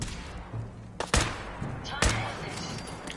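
Two heavy booming shots from the Broadsider, a portable naval cannon in a video game, about a second apart over a busy background of game noise, with a voice speaking.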